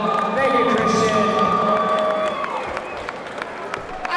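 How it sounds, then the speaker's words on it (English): Crowd applause and cheering at a middleweight boxing title fight, heard under loud tonal arena sound and some talk, tapering off toward the end. "big applause for Christian Williams"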